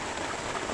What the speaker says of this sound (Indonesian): Masih hujan, guys. Masih hujan. Makin deras.